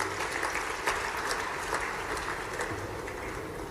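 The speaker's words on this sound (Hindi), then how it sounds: "जोरदार तालियां बजाएं अपने इस क्षेत्र के लिए।" A rally crowd clapping at a political event in Madhya Pradesh, a dense, continuous wash of applause heard from a distance, steady throughout with no voices over it.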